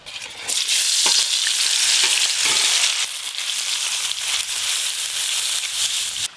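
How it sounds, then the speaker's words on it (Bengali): Hilsa fish fries in hot oil with a loud, dense, steady sizzle close up, broken by a few stirring or turning clicks, with no voices. "এবার গরম গরম ইলিশ মাছ ভাজা করব।"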